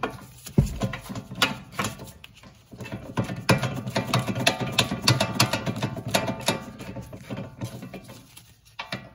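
A wrench works on the rear brake caliper bracket bolts of a Buick Regal, producing quick ratcheting clicks and metallic taps in irregular bursts close by.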